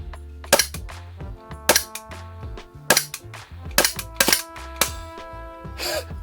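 An Umarex Glock 17 Gen5 CO2 airsoft pistol fires about eight sharp, close pops in an uneven rhythm, each followed by a brief metallic ring, with the last shots sounding weaker as the CO2 runs low.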